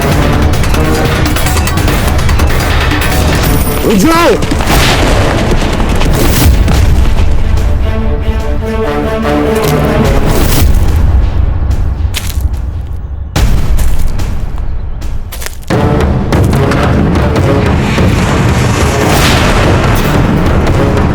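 Loud, deep booms of cannon fire roll out repeatedly from a sand hill, with heavy rumbling explosions and brief lulls between blasts.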